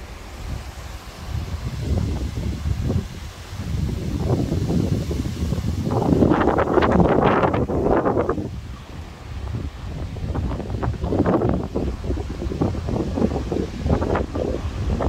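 Foehn storm gusts rake trees along a riverbank, a steady windy rush that swells into a louder surge midway, then eases back into rustling bursts.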